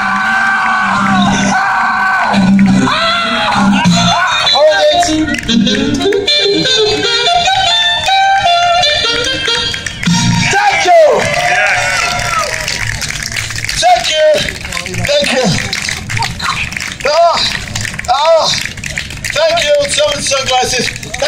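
A festival crowd at Glastonbury 2015 screams and yells loudly on a performer's command, sustained whoops and bellows filling the air for about twenty seconds with scattered individual shouts rising above the roar.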